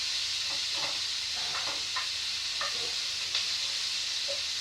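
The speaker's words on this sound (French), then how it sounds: "Vous remuez souvent." Pork with garlic, onions and carrot sizzles steadily in a pot under a constant hiss, while a spoon stirs through it with soft, irregular scraping knocks close by.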